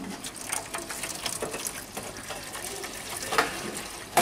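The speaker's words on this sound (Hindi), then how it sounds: "ये हम पानी डाल रहे हैं इसमें" Water pours from a jug into a small DC 12 V, 3.5 A air cooler, making a faint, steady splashing gush close by, with a louder burst right at the end.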